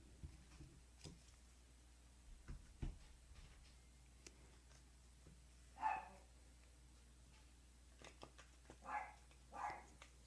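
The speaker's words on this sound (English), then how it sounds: "The neighbor's dog is barking." A neighbor's dog barks in short, distant bursts, a single yelp near the middle and a few more a few seconds later, faint over a steady low hum with no one talking.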